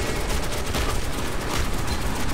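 Enemy gunfire in the video game Metro 2033 Redux, a dense, continuous, loud crackle of overlapping shots with no pauses, close and harsh, with no talking.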